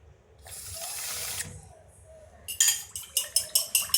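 Water runs from a kitchen tap for about a second while hamburger mix is prepared, followed by a rapid series of sharp metal clinks of a utensil against a bowl or pan, close by.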